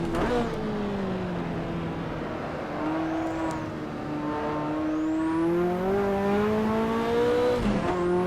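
A Ferrari F40 in the racing game Assetto Corsa accelerates hard, its engine note rising steadily through the revs in one long, loud, close pull with a brief drop near the end and no talk.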